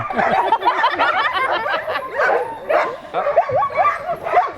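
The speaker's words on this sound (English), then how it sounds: "every sled dog began to bark, hoping to be picked for the run" A pack of Alaskan sled dogs barks, yips and whines excitedly, many overlapping high, rapid calls crowding together close by in a loud, continuous chorus.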